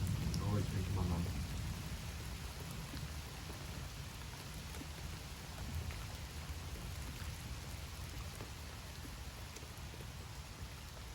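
Steady rain pours down during a thunderstorm, a dense continuous hiss of drops on surfaces that stays loud and even throughout, with a heavier rumbling burst near the start.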